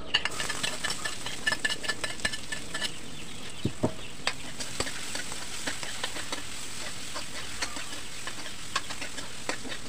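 Food fries in a kawali while being stirred, a continuous close sizzle broken by frequent sharp spatula scrapes and clicks against the pan, with no voices.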